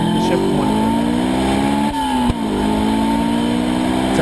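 A Honda S2000 fitted with a K20 K-series engine revs hard, its rising note steady and loud through the clip with a brief dip near the middle, as if during a shift.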